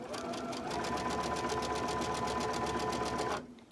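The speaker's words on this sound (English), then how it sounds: "I'm gently pulling the fabric, which stretches it a little bit as I sew." A sewing machine stitches sashing fabric on a quilt block, running at a steady, fast, even rhythm close by for over three seconds before stopping abruptly.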